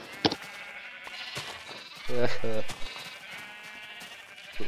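A sheep bleats twice in quick succession in a Minecraft-style crafting survival game, clear and close, with people talking around it.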